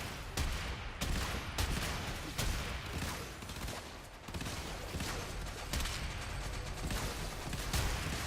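A shotgun fires repeatedly in the sci-fi shooter game Warframe, with sharp blasts at irregular intervals over a dense, noisy battle background.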